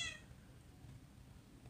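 A brief Minecraft cat meow at the very start, quickly fading into a low background rumble.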